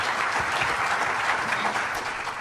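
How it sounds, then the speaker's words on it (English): Audience applause for Chris, a presenter at a talk on brain-computer interfaces, a steady dense clapping from a crowd that fills the room evenly, with no voices over it. "give Chris a big round of applause first."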